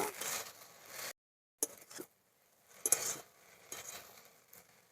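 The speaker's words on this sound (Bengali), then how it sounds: "ওই জন্য এখন আমি শাকটা এরকম ভেজে নেব, কমিয়ে নেব" Water spinach (kalmi shak) fries in a pan at home in a Bengali kitchen, giving bursts of moderate sizzling and scraping with brief pauses and clinks of the utensil, no talking.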